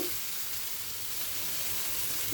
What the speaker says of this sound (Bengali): এখন আমি এই মুহূর্তে দিয়ে দেব গরম জল